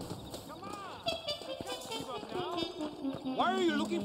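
Horse hooves clip-clop at a steady trot in the video game Red Dead Redemption, heard beneath spoken dialogue between characters.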